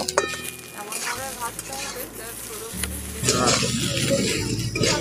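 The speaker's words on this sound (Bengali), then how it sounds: "বেগুনগুলোকে উলট পালট করে ভালো করে ভেজে নেব।" Sizzling from a pan as eggplant pieces fry and are stirred and turned, with scraping and clinking of a utensil against metal, growing louder toward the end.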